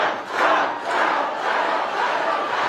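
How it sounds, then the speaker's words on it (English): Large crowd at a rally-style event roaring and cheering steadily, a loud sustained wash of many voices swelling and dipping slightly without a break. "That's a nice crowd."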